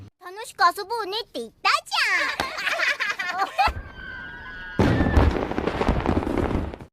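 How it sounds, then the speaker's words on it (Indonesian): Excited voices and laughter give way to a rising whistle, then a sustained barrage of loud, crackling firework bursts. "Kembang api muncul dan mewarnai langit yang gelap"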